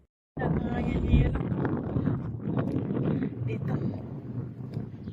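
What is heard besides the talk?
strong wind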